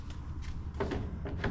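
A rebuilt vintage camper door closes and its latch catches, giving a couple of soft, hollow knocks and clicks up close, fairly quiet with no voices.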